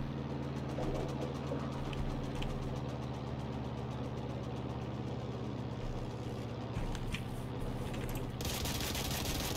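Machine gun fire from a MiG-3 aircraft in the Heroes & Generals game rattles steadily over a constant droning engine, a dense loud wash that continues without pause.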